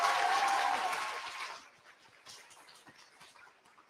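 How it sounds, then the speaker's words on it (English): Audience applause for a hip hop dance group at a university year-end cultural celebration, loud and dense at first, then thinning out and fading to scattered claps after about a second and a half. "Can we get another round of applause for Hallouen Hip Hop group?"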